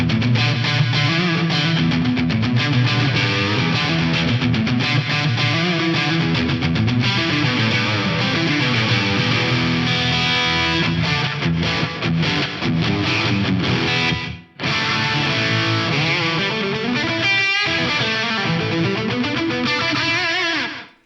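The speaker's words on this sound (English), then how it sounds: "You can even set it up for slapback style effects." Guitar played through an Eventide H90 running the SP2016 reverb algorithm, set for slapback-style early reflections that thicken the tone; dense, continuous and loud with sustained chords, one brief gap near the end, no talking.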